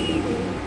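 A male pigeon at a pigeon market gives a brief, low, throaty coo, close and fairly loud, over a dense background of other birds and market noise.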